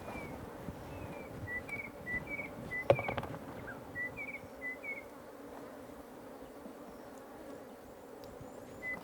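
Bees buzz in a steady, low swarm drone during a honey harvest in the Karamoja region of Uganda, with faint higher insect whines and a brief knock partway through.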